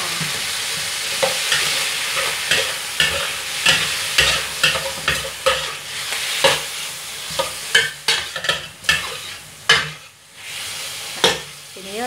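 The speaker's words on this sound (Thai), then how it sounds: "ตามด้วยเกี๊ยมฉ่ายนะคะใส่ลงไปค่ะ" Pickled mustard greens stir-fried with pork stomach in a hot pan: continuous loud sizzling and frying hiss with repeated quick metal spatula scrapes and knocks, growing busier and sharper toward the end.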